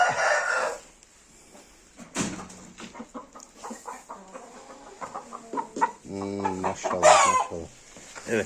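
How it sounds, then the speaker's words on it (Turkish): Chickens cluck intermittently nearby with a louder squawking call near the end, under quiet background noise and some faint human voice. "Yanında da güzel bir tavuk var"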